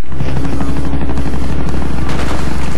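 A helicopter in a shooter video game thrums loud and steady with a low rotor throb, and gunfire-like bursts cut through it; nobody speaks over it.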